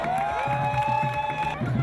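A crowd at a 100th birthday celebration cheers and claps together, steady whoops and shouts layered with applause, close and continuous throughout.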